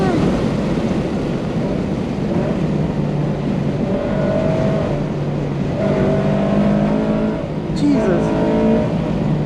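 A car runs at a wet NJMP Thunderbolt track day with its transmission not shifting, the engine droning steadily and loudly at held pitch from inside the cabin, with someone talking over it.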